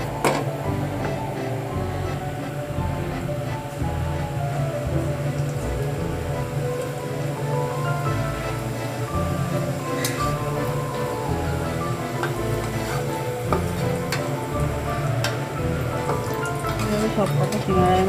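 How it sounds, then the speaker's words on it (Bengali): Small samosas deep-fry in oil over medium heat, giving a constant bubbling, crackling sizzle close by for the full length, with quiet background music. "সবকটা সিঙ্গারা আমার মোটামুটি ভাজা হয়ে গেল"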